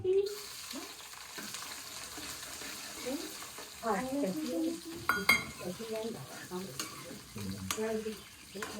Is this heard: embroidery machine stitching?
no